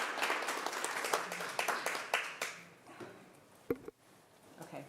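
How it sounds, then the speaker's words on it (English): Applause at a city council meeting honoring the 2022 Employee of the Year, a roomful of clapping with distinct individual claps that gradually thins out, followed by a sharp knock and a few stray sounds. "So if we could all give Josh a round of applause for being our 2022 Employee of the Year."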